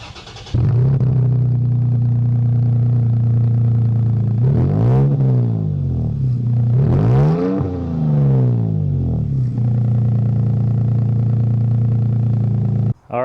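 Toyota Tacoma TRD Sport fitted with a Carvin stainless steel exhaust starts up into a steady, loud, deep idle, then revs twice in quick rising-and-falling sweeps before settling back to idle and shutting off.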